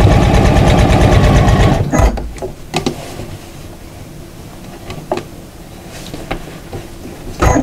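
A sewing machine stitches binding onto a fabric storage case with a fast, loud, continuous whir for about two seconds. It then stops, leaving a few faint clicks and handling sounds.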